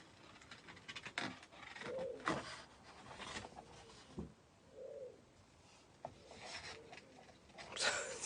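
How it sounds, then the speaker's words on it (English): A pigeon coos outside a window, soft low calls at a distance amid faint room noise, scratching, and small knocks. "there's a pigeon just landed outside my window. I don't know if you can hear him making a right old racket"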